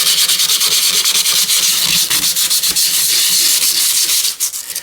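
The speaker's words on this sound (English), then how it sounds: "the coarser grit sandpaper, it helps get rid of a lot of the surface rust" Coarse grit sandpaper scrubs heavy surface rust off a metal arcade action pedal from a Crisis Zone machine, a loud, close, continuous rasping hiss in rapid back-and-forth strokes that eases off at the very end.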